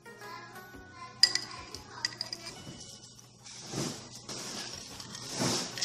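Ingredients for microwave brigadeiro are added to a plate in a home kitchen, with scattered clinks of a utensil against the dish followed by softer scraping and rustling, close and fairly quiet.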